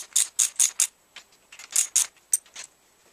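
A bolt on a Celestron altazimuth telescope mount is tightened, producing a quick series of close, crisp ratcheting clicks in two short clusters.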